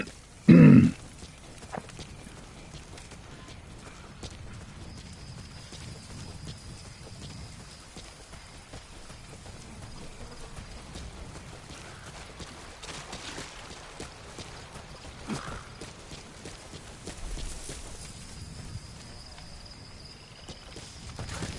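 Horse hooves clip-clop at a slow, uneven walk in Metal Gear Solid V, soft and fairly distant under low ambient game sound, after a brief loud thump at the start.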